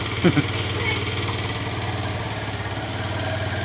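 Carburetted Suzuki Skydrive scooter engine idling steadily just after starting, a close, even mid-pitched putter. A couple of brief knocks come early, and someone talks over it.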